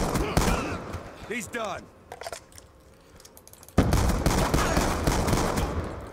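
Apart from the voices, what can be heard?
gunfire in video game Call of Duty Black Ops 2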